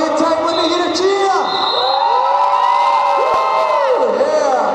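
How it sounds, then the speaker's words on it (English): Roller derby crowd cheering and whooping in an arena, loud, sustained voices with rising yells and shouts layered over one another. "if you're having a good time, let me hear a cheer!"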